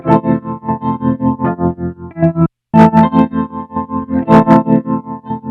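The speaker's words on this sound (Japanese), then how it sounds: "トレモロプラスピッチシフター系な音ですね。" Electric guitar chords chopped into a rapid pulsing stutter by a BOSS SL-2 Slicer pedal, with a warbling, pitch-shifted shimmer and a brief gap midway; no voices.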